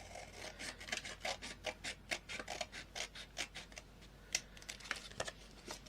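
Scissors trim paper for a ring-bound journal page decorated with a dog theme. Quick, rhythmic snips and rubbing cuts repeat about a dozen times, close and soft, with no one speaking.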